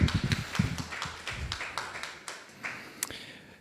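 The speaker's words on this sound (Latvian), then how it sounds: "Laba vieta aplausiem" Audience applause at a social entrepreneurship forum in Latvia, a burst of scattered claps near the start that quickly thins into sparse, fading taps.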